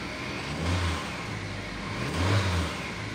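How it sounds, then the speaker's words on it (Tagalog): A Haval H6 engine cranks and labors in two uneven surges, rising and falling without catching into a steady idle, a hard-starting fault with a check engine warning. "Hard starting yung makina."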